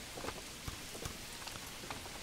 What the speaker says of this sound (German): Jetzt regnet zum Beispiel.